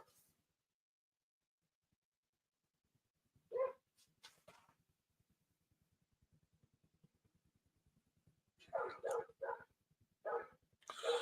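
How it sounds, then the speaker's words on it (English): A neighbor's dog barks indoors-distant and faint, in a couple of short bursts early and again in a cluster toward the end, with a person's voice nearby. "you probably hear a dog barking. It's my neighbor's dog."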